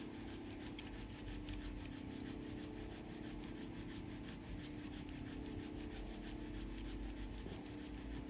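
Steady rubbing by hand on a freshly CNC-machined button, polishing its surface to a shine; a continuous, close dry friction noise with fine rhythmic strokes, no talk.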